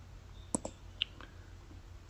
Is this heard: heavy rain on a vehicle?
no